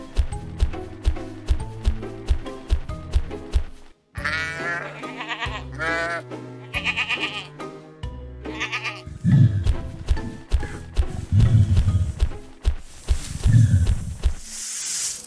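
Sheep on a farm bleat repeatedly, with several wavering cries in a row over rhythmic clip-clop-like thumps and steady background music.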